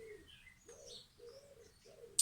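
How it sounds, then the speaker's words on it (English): A club-footed pigeon coos from its nest in a tree, several soft, low, evenly spaced calls close by, with a brief sharp noise at the very end. "He's a club-footed pigeon that built a nest in the tree last year"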